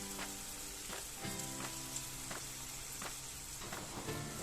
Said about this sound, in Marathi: इथे आता एक एक वडा किंवा कटलेट जे आहेत ते तेलात सोडते आहे.